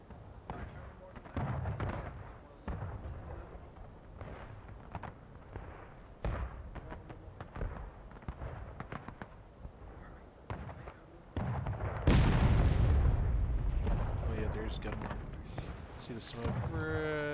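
Artillery guns fire on a Civil War battlefield in the video game War of Rights, with scattered booms and cracks and one big blast near the middle, while someone talks throughout.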